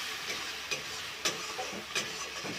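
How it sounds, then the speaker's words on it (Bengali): Chili powder is stirred into spices frying in oil, a quiet steady sizzle with a few soft scraping strokes of the spoon spaced through it. "লঙ্কার গুঁড়োটা দিয়ে দেবো। নাড়াচাড়া করে মিশিয়ে নেব।"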